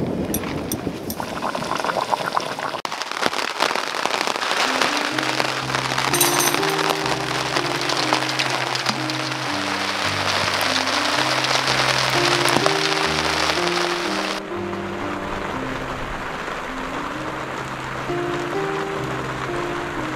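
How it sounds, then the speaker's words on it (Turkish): Heavy rain pounds steadily on a tent during a stormy camping night, a dense continuous patter that stays loud throughout, with low tonal music-like tones running underneath. "Bir yerlere yağıyor şu anda, çok kötü."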